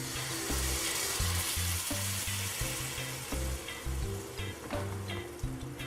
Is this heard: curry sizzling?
yes